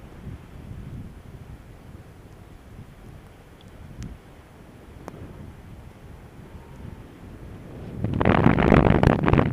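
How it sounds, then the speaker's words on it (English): Wind rushing past during flight makes a steady low, muffled roar that swells into a louder, harsher gust near the end. "See, we're just in this little layer of wind."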